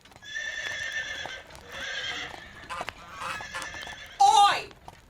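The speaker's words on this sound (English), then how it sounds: "Make way for Lady Reach Fisher's carriage" A horse-drawn carriage arrives with horses neighing and hooves clip-clopping, followed by a loud high whinny near the end, with geese honking amid the commotion.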